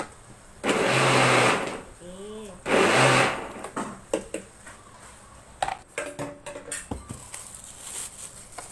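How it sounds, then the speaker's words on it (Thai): A blender whirring through Pipo jelly drink in two short, loud bursts. Lighter clatter and a voice talking follow after the motor stops. "แล้วก็ปั่นอีกรอบนึงนะคะเพื่อน"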